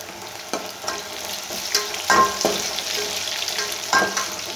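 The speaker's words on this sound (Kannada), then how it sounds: "ಈರುಳ್ಳಿ ಫ್ರೈ ಆಗಿದೆ." Onions fry in a pan with a continuous close sizzle, punctuated by several scraping strokes of a spoon stirring them, with no voices.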